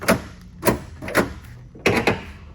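Door poppers on a 1975 Chevy Caprice Classic lowrider with big heavy doors fire in four sharp, close clunks, spaced about half a second apart, with the last two nearly back to back.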